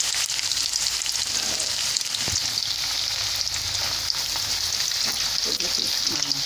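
Sliced plantain for Ghanaian plantain chips frying in hot oil, giving a steady, dense sizzle and crackle throughout with occasional louder pops, close and continuous with no talking.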